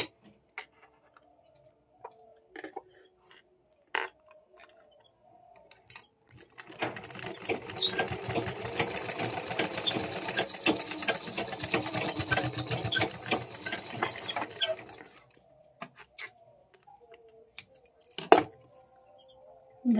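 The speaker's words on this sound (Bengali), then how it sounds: "এইভাবে আবার আমি সেলাই করব।" A sewing machine runs steadily for several seconds while stitching a fabric flower, a fast close mechanical whir framed by scattered clicks and handling knocks before and after.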